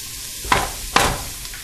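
Crab pieces dropped into a pot of frying onions and tomato sauce, giving two sharp sizzling bursts close by as they hit the hot pan, followed by a softer steady sizzle.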